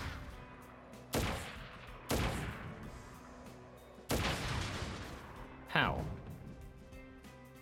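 Sniper rifle shots hitting barrels in Crisis Core: Final Fantasy VII Reunion: four sharp, loud reports spaced about a second or two apart, each with a fading tail, while a voice speaks briefly between them.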